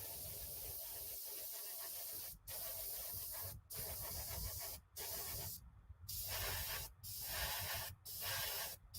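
Tamiya XF1 paint hisses from an airbrush in close, steady bursts separated by several short pauses, with no talking over it.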